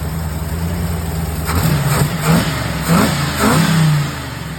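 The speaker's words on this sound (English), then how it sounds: "LS is alive!" An LS-swapped Jeep CJ7 engine idles nearby, then gets several quick blips of revving that rise and fall in a rough rhythm before settling back to idle.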